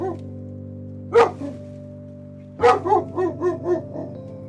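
Small dog barking nearby in a quiet room: a single sharp bark, a pause, then another bark followed by a quick run of several yips, over a faint steady hum.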